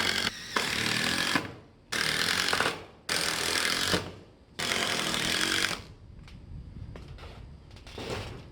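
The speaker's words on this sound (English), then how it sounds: "putting 3-inch deck mate screws down in through a 2x4 just to hold the whole tin down" A power driver sinks 3-inch deck screws through a 2x4 into a carport's tin roof: four loud, close whirring bursts of about a second each, then a quieter stretch of rattling and handling noise.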